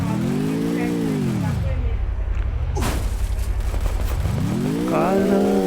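A car in the Free Fire battle royale game drives and revs with a strong engine tone that climbs, drops into a steady low drone, then climbs again as it accelerates, loud and close under game noise.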